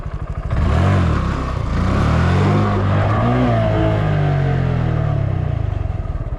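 A motorcycle engine revs hard during a wheelie attempt, rising and falling in pitch through repeated throttle swells, loud and close with a rough, buzzing tone.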